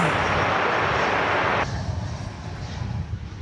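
Commercial airliner arriving from San Luis Obispo at Dallas/Fort Worth Airport, a loud broad engine roar that cuts abruptly to a softer, steady rumble partway through, heard at an open airfield.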